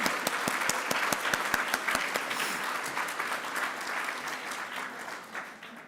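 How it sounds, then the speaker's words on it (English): At a conference closing ceremony, an audience applauds with crisp, rapid clapping that is strong at first, then gradually thins and fades into softer scattered claps and a quieter room. "please join me in a special round of applause for her organizational skills"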